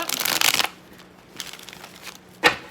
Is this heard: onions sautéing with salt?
no